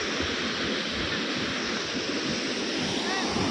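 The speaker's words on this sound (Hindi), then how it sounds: "इसका नाम है केरी वाटरफॉल" Kedi waterfall roars nearby as a dense, continuous wash of falling water that stays loud and steady throughout, with some wind buffeting.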